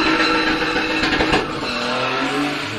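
A gymkhana car at a Witzenberg Motorklub event spins with loud, continuous tire squeal and engine roar in a dense, rough burst, with no talk.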